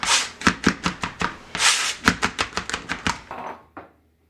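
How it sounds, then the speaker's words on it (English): Knife chopping garlic on a cutting board for a Jamaican beef patty filling: a quick run of about fifteen sharp, close, loud chops in steady bursts, trailing off at the end, with no talking. "If you want smaller piece of garlic, then you just go ahead and you chop that down."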